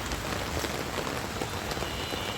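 Rain comes down on an open rooftop among potted plants, a dense, even hiss of drops close by, with no one speaking.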